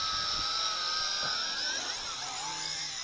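Yizhan i8h Tarantula quadcopter drone motors whining at lowered throttle, a steady high-pitched buzzing drone whose pitch wavers and slides down, heard fairly close with no talking.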